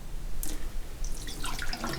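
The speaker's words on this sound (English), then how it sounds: "I'll spill out the water" Water is poured out of a marble cup in which a shaving brush has been soaking, giving a short burst of splashing and trickling drips over a steady low background hum.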